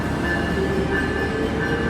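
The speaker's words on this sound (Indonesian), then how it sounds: "Kereta api Mutiara Selatan dari Surabaya Gubeng tujuan Bandung masuk stasiun Kebumen dengan lokomotif CC06 1303." A diesel locomotive, CC06 1303, pulls the Mutiara Selatan train into Kebumen station with a steady rumble and a sustained metallic whine over it, loud, continuous and nearby.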